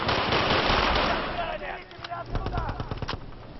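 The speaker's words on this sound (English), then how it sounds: "there's a guy on the big machine gun up here" A heavy mounted machine gun fires in a video game on the Panama Canal map, a dense loud barrage that thins into scattered rapid shots, with a voice talking over parts of it.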